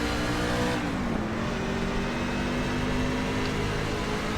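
Race trucks in a NASCAR Truck Series field at Daytona roar in a dense, continuous engine drone at the green flag start, their pitch shifting as the pack accelerates.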